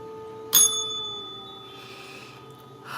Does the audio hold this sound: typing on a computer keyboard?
no